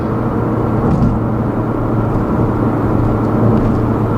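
A 2016 Ford Focus RS cruising at 70 mph around 2,600 rpm in tall gearing gives a steady, low droning engine note blended with road and wind roar, heard from inside the cabin and unchanging throughout.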